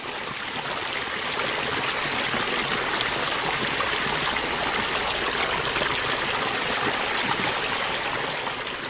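Spring creek water rushing steadily over rocks in a loud, continuous broadband wash that holds an even level with no break and no voices.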